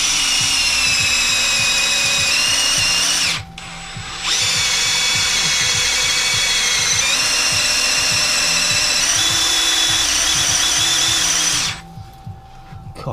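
An electric drill runs loud and close, drilling a hole during a Newall NMS300 DRO install on a Bridgeport mill, in two long steady bursts separated by a short pause, with a rhythmic low chatter beneath the whine.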